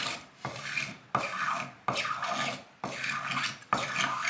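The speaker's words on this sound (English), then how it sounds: "Now it's just a case of card scraping" A card scraper drags in long, repeated rasping strokes across the binding of a custom Yamaha Revstar-style guitar body, each pass a close, loud scrape separated by brief pauses, with no talking.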